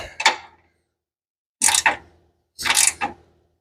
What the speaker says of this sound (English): And just be turning the nut instead of the bolt. It's really tight.